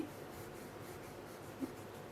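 A brush rubs softly over paper while blending a realistic drawing, making a steady, faint, close-up swishing hiss with one small tap near the end.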